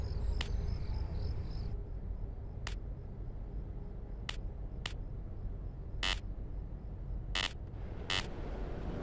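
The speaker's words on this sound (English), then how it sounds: "There's a weird buzzing noise whenever they click the default skin." Sharp buzzing bursts from a video game's audio glitch fire each time a default character skin is clicked. About eight short, spaced-out buzzes cut over a low, steady background hum.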